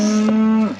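A cow moos loudly and close by during calf weaning and trailer loading, a single sustained low bellow lasting nearly a second before it fades at the end.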